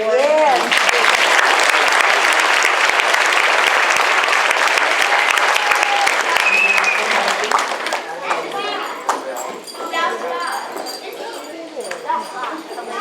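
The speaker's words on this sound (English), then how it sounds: "let's give a special round of applause to Cameron Matthews, who was up there for all 4" Loud, dense applause from a large crowd at an elementary school end-of-year awards ceremony for first and second graders; the sustained clapping fades after several seconds into chatter, cheers and scattered claps.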